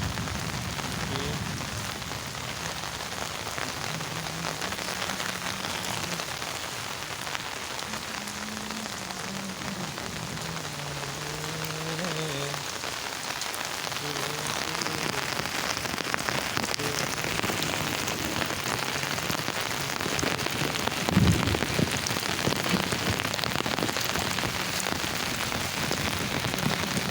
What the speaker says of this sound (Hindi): पूरा बरसात के मौसम में देखिए बारिश